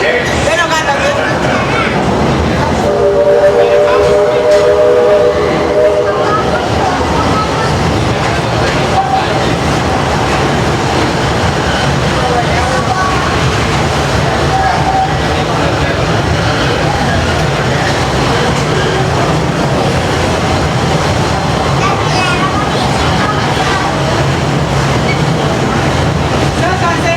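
Walt Disney World Railroad steam train ride at Magic Kingdom, heard from aboard: a continuous loud rumble of wheels and carriage noise with rhythmic clatter, a brief whistle-like tone early on, and people talking over it.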